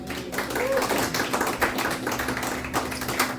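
Steady applause from an audience at a Dada poetry cabaret evening, a dense patter of claps held at an even level for several seconds with a few sharper individual claps poking through.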